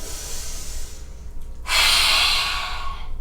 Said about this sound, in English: 3 rounds, lion's breath. Inhale. And exhale, stick out your tongue.